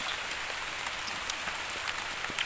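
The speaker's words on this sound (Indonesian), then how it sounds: "hujan tuh teman-teman tuh" Steady rain patters outdoors by a river, heard from under a tree, a dense, even hiss with scattered individual drops standing out close by.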